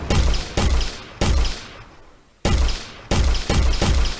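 Gunfire in an Unreal Engine game arrives in sharp bursts, about seven loud close shots in uneven clusters, each ending in a short decaying tail, with one longer pause in the middle.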